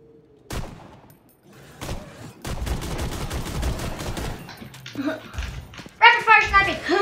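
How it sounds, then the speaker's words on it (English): Rapid sniper rifle shots ring out in the shooter game Lawbreakers, a series of sharp close cracks in quick succession with bright ringing effects near the end. "Rapid fire sniping."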